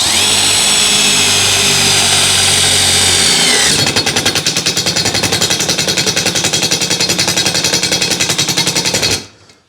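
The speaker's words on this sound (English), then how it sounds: "So it's supposed to ramp up to prevent this screw from walking and then drive." A Milwaukee M12 Fuel driver on its self-tap setting drives a screw, first with a steady high whine, then ramping into a loud, rapid ratcheting hammer that runs several seconds before stopping abruptly.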